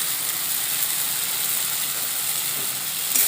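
Spices with turmeric, Kashmiri red chilli powder and salt fry in a pan with a steady, bright, close sizzle that stays even throughout, a faint scrape rising at the very end.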